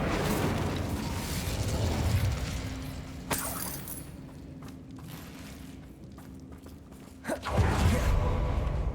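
A Bombarda blasting spell goes off in Hogwarts Legacy, a sharp burst with crackling debris near the start, a quieter stretch with a faint hum, then a second heavy impact and rumble toward the end.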